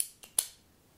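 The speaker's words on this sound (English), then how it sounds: "with this pen, I'm just gonna click it" Two quick, crisp clicks of a pen, close and quiet in a near-silent room, the second slightly louder.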